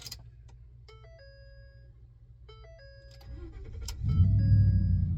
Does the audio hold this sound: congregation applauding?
no